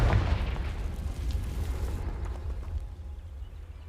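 A Confringo spell explosion in Hogwarts Legacy, a loud deep fiery blast at the start that rolls into a long rumbling decay fading over a few seconds, with no voices over it.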